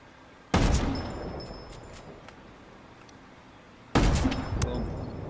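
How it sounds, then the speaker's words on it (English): Gunshots traded in a video game come as two sharp, loud bursts a few seconds apart, with a fainter pop between them over a quiet background. "You just traded gunshots with a bunch of things."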